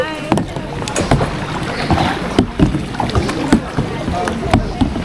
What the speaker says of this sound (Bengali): এই ক্ল্যাশ হয়ে যাচ্ছে এরকম ভাবে বোটের সাথে বোট।